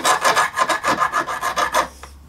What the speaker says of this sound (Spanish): yo simplemente le paso la lija muy fina, muy suave